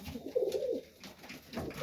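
Pigeons coo softly inside a loft of young Serbian Highflyers: one low, throaty coo and then a fainter second, with quiet room hiss behind.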